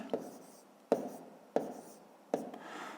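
Pen or chalk writing a number during a maths lesson, four short distinct scratching strokes spaced under a second apart, close and quiet.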